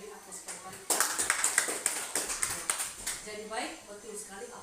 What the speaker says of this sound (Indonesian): kita beri aplaus kepada Pak Rika